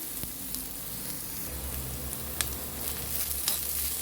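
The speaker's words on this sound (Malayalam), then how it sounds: "ഇനി തേങ്ങയും കൂടെ ഇട്ട് നമുക്ക് വറുത്തെടുക്കാം" Grated coconut roasting with popped mustard seeds in a pan for erissery, a steady soft sizzle with faint scraping and a couple of sharp ticks, heard alone without talk.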